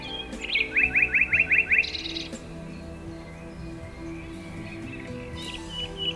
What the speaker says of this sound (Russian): Слушая пение птиц и глядя на воду, спокойно наблюдаешь за природой.